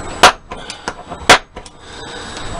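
Two sharp, loud metallic hammer strikes on a center punch against a skull chandelier end cap ring out about a second apart, with lighter taps and handling knocks between them and no talking.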